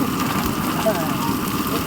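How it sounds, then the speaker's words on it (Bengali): Rain falls on the Bidyadhari river in the Sundarbans as a steady, dense hiss that fills the whole short stretch at an even level. "আবার এক্ষুনি বৃষ্টি আসছে।"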